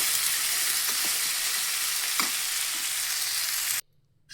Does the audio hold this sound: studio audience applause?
no